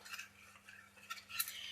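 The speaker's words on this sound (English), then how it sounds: "And then you give it a stir." Potash for African black soap being stirred into water in a container, a soft continuous swishing and scraping with faint clinks, close and quiet, with no voices.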